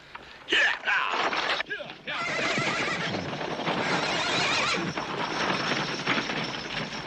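A horse whinnies sharply, followed by a rumble of hooves and wagon noise, with a voice speaking over it.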